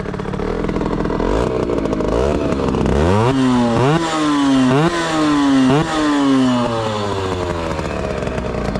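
A Derbi GPR 50cc motorbike engine runs loudly and steadily, its pitch climbing and dropping repeatedly as the throttle is blipped, with no talking.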